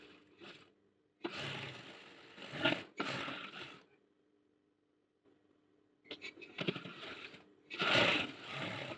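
Sewing machine stitching a blouse along marked lines, running in several short bursts of fast whirring with quiet gaps between, close and fairly loud.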